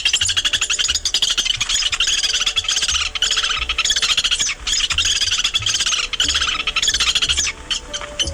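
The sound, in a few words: Lewis's woodpecker chattering call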